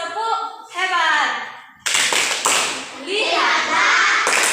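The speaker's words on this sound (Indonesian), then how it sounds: "kita kasih tepuk hebat" A group of children in a classroom perform a patterned 'tepuk hebat' clap, with rhythmic bursts of claps and taps after stretches of a voice, loud and close.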